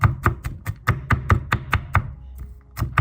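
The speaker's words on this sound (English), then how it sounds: "choose mature, firm cloves, and chop them finely" A knife chops mature, firm garlic cloves finely on a board, with quick, regular close taps in a steady rhythm and a short pause before resuming.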